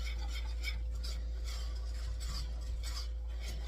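Thickening eclair choux dough stirred constantly in a pan: a steady run of close, rhythmic scraping and swishing strokes over a constant low hum, with no voices.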